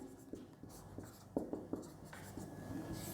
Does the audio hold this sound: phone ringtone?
no